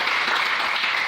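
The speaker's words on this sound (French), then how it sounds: "Est-ce qu'on peut acclamer le Seigneur?" A church congregation breaks into steady, dense applause, many hands clapping together at close range in a continuous burst with no voices over it.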